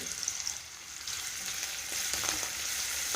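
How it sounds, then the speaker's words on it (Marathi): Green chillies, curry leaves and onion hit hot oil with softened garlic in a pan, a close, steady sizzle and crackle with a few stirring scrapes, no voices. "मी मिरची कढीपत्ता आणि कांदा घालणार आहे"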